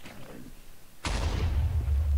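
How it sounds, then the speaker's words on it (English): A squid bomb explodes in Minecraft, a sudden loud boom about a second in that cuts through quiet game sounds, followed by a rumbling low tail. "I didn't know how big the explosion was gonna be."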